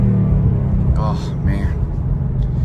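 A 2019 Ford Mustang GT in Orange Fury with the GT Performance Pack rumbles steadily while driving, a deep, loud low-end engine drone that runs throughout, with a brief voice breaking in partway.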